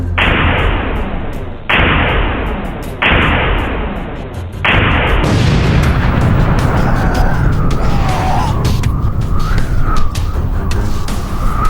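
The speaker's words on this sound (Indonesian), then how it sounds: "Ini adalah roket bazooka." A bazooka rocket launcher fires several loud, evenly spaced blasts, each with a whooshing tail. Then a dense, roaring rumble continues, and a high whine rises and falls over it.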